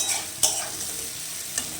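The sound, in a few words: carrots frying and being stirred in a pan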